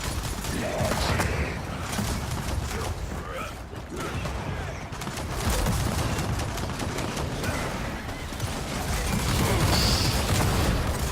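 Sustained video-game gunfire rattles almost nonstop in dense, loud bursts amid turret fire during a horde-mode match.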